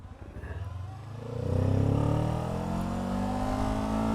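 Kawasaki hybrid Ninja motorcycle with its engine running alongside an electric motor, building from a low hum to a steady, close engine drone that rises and holds through the end, with no talking.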